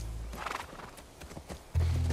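A horse in the video game The Last of Us whinnies and snorts as hooves clip-clop lightly near a ranch, followed by a sudden loud low drone at the end.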